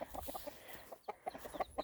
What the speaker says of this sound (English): they're both roosters. And they are copper marans.